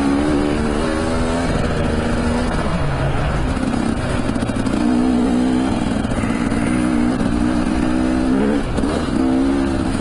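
Enduro motorcycles on an autumn trail in the Basque Country rev loudly and continuously while climbing a slope, the engine pitch rising and falling with throttle changes, close and dominant with no talk.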